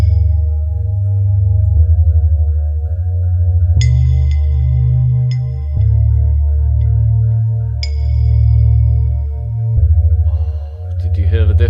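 Sampled empty mug tones run through reverb in a music production session, played as a sequence of sustained, shifting pitched notes with swelling echoes and occasional bright chimes, loud and without speech.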